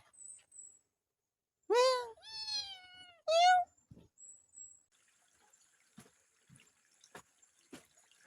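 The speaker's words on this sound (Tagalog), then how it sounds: "Kaninong pusa to?" A cat meows three times in quick succession, close and clear, followed by quiet trickling water from a spring and soft clicks.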